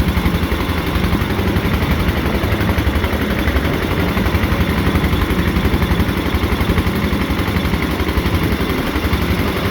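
A 14-horsepower Magnum gasoline generator engine runs steadily and loudly throughout, a continuous throbbing drone with no pauses and no voices.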